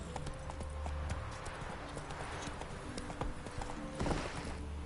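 Horse hooves clip-clop in The Witcher 3, a steady rhythmic trot heard fairly close over faint ambient game sound, with a brief louder stretch near the end.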